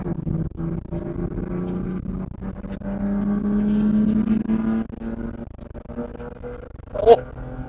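A first-generation (early 10-series) Toyota Soarer with a twin-cam engine accelerates hard, its steady revving drone rising and holding before a brief louder burst near the end; a voice exclaims at that point.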